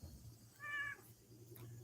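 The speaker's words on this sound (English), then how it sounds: "I'm trying to read here, Putty Kitty, and you're hopping right on my book" A pet cat gives one short, clear meow at close range while hopping onto a book in a quiet indoor room, with faint background hum.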